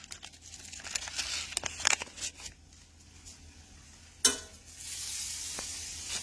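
Butter sizzles in a frying pan while a croque monsieur cooks, a close, soft crackling hiss. Scraping and rustling handling noises break in now and then, including one sharp knock, and the sizzle grows steadier toward the end.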